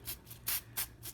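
A spray can hisses inside a fake cake made from Dollar Tree items, in five short bursts close to the mic.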